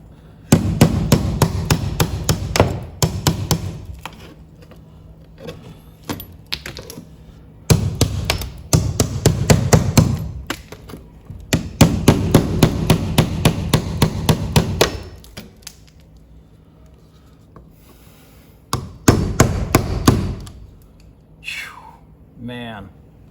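A hammer chips thick body filler off the panel of a vintage GMC step van, landing in rapid runs of loud metallic blows with pauses between bursts, while a person talks at times.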